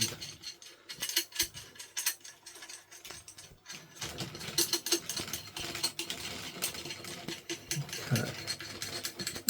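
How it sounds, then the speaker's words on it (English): A metal nut is spun along a threaded rod while building a Christmas light prop, giving quiet, rapid ratcheting clicks that run steadily throughout at close range. "And we take the nut all the way to the end."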